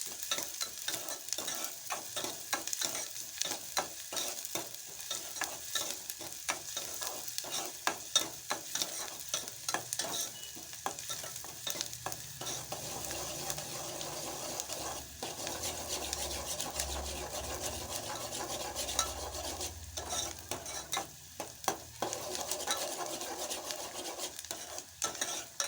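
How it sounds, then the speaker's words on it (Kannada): Spatula scraping and stirring in a pan of hot oil as seasoning fries for chavalikai palya, a cluster bean stir-fry, with rapid repeated scrapes over a soft continuous sizzle throughout. "ಎಣ್ಣೆ ಕಾದತ್ತಿ ಒಳಗಡೆ ಹಾಕ್ತೀನಿ. ಸ್ವಲ್ಪ ಕೆಂಪಾಗಬೇಕು ಅಲ್ಲಿವರೆಗೆ ಕಡ್ಡಾಡ್ಸಿ."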